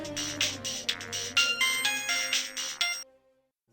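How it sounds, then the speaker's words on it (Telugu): A melodic mobile phone ringtone for an incoming call plays loudly and steadily for about three seconds, then cuts off into silence. "రే విజ్జు ఫోన్ చేస్తుందిరా"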